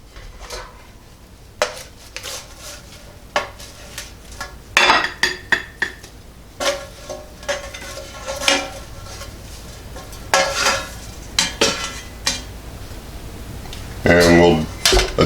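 Scrambled eggs being plated from a NuWave oven pan: utensils scrape and clink against dishes in repeated sharp knocks and taps, close by, with a person talking between the clatter.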